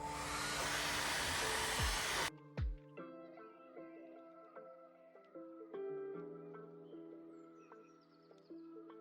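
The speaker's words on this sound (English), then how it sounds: "So I'll turn this thing on and I'll heat up the display pretty much to melt the adhesive." A hair dryer heats an iPhone 6S display to soften the screen adhesive: a loud, steady blowing roar for about two seconds that cuts off abruptly, followed by quieter, faint tonal sounds.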